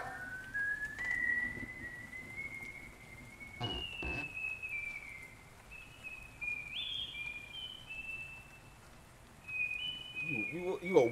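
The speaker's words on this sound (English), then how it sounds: "Why are you whistling so hard for?" A person whistles a long, wavering high-pitched tune that slides up and down, fairly steady and moderately loud, with people talking over and around it.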